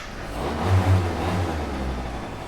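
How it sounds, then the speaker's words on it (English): A street go-kart engine is started with the key and a light tap, firing into a low, buzzy idle with two quick revs near the start before settling into a steady close rumble. "That's how you start the kart."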